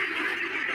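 Ducks about one and a half months old calling together in a steady, continuous nasal chorus, close and fairly loud, with no pauses and no one speaking.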